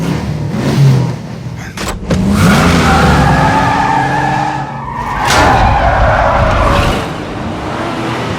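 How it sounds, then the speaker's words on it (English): Cars race through a chase scene in a crime action film, loud engine roar with repeated tire squeals and skidding that swell and fade as vehicles pass close by. "A car chase followed"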